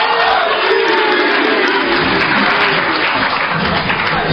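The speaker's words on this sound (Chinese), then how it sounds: "谢谢大家给我一个人的掌声，我很欣慰啊！" A dense, steady roar of audience applause fills a crosstalk comedy hall at a season-closing show, loud and continuous from start to finish with no talking on top.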